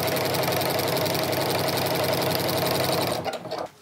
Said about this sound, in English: So I'm just keeping that edge even and sewing straight.